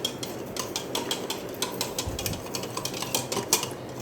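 Metal spoon clinking and scraping against a glass while sugar is stirred into juice, quick irregular taps and rattles at close range, moderately quiet.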